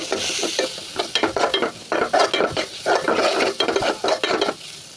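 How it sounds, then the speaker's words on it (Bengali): Papaya curry with spice powder is stirred in a frying pan: repeated rhythmic scrapes and clanks of the spoon against the pan over a soft sizzle, close and fairly loud, with no voices. "গুঁড়ো দিয়ে দিলাম, মশলার গুঁড়ো দিয়ে দিলাম, নাড়াচাড়া করে নেব"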